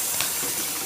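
Running tap water rinsing something while cooking spicy Korean noodles and rice cakes, a steady broad hiss that is loud and close with no pauses.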